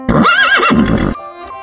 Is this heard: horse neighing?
yes